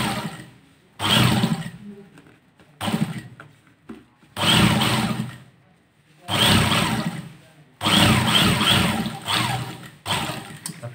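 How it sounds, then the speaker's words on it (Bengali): An electric sewing machine stitches a seam on a Kallidar Punjabi in repeated bursts of rapid whirring needle chatter, each run lasting about a second with short pauses between, loud and close. "সাফ সেলাই দিয়ে দিচ্ছি।"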